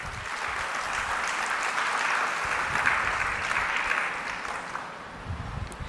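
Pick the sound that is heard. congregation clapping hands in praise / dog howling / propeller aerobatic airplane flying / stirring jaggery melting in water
congregation clapping hands in praise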